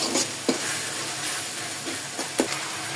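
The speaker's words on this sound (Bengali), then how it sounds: "যেহেতু এটা মাছ, এখন আমাকে একটু পরিমাণ মতো নাড়াচাড়া করে নিচ্ছি।" Rohu fish with ginger paste stirred in a hot pan, a steady sizzle and hiss with a few scraping strokes of the spoon spaced through it, close and fairly quiet.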